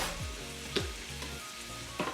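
Minced garlic, about two tablespoons, sizzling in a pan of beef with the oil drained off, a steady close frying hiss with a couple of brief stirring scrapes and clinks.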